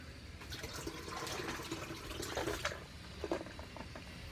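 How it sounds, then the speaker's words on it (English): Water runs from a kitchen faucet into a noodle bowl, a steady, soft splashing stream with a few louder spatters, fairly close and with no talking. "Turn on the water."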